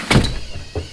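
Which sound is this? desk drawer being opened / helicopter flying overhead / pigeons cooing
desk drawer being opened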